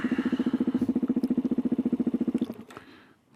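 A Suzuki DRZ 470sm single-cylinder motorcycle engine runs close by with a fast, even thumping pulse that lasts about two and a half seconds, then cuts off abruptly and fades into a short mechanical clatter.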